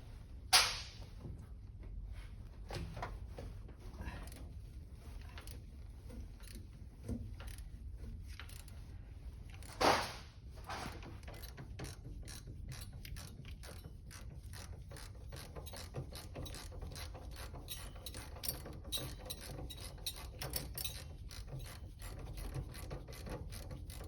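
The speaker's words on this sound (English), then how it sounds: "Loosen the ignition cable." Ignition cable being loosened on a Ford Model A, a long run of close metallic ratcheting clicks from a wrench, steady and rapid, with a couple of louder knocks along the way.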